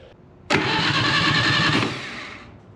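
An old engine cranked and fired by a remote start button wired to a 12-volt battery: faint noise, then a sudden loud start that runs rough and steady for over a second before tapering off, close by with no talking.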